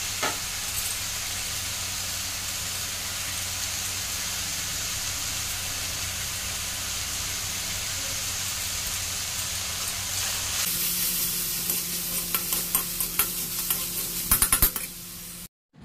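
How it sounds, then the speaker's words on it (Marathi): Fresh grated coconut being stirred into red amaranth bhaji in a pan, a steady close scraping and sizzling hiss that continues throughout and grows busier with sharper clicks near the end. "आता याच्यात आपण ॲड करणार आहोत ओलं खोबरं"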